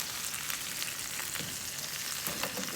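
Champignon mushrooms frying in a pan, a steady broadband sizzle with light crackle and occasional stirring, close and continuous with no talking.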